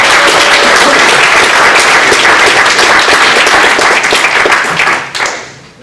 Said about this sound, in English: And you can't applaud me without applauding Victor Pineda for saying